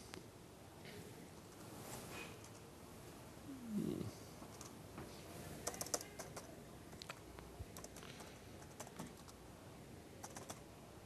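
Typing on a computer keyboard while working on C code, a quiet, steady patter of key taps with occasional louder strokes, close and faint, no talk.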